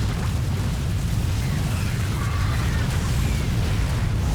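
In a StarCraft II battle, Banelings explode against Thors and siege tanks in a dense, continuous rumble of overlapping booms and blasts, loud and unbroken throughout.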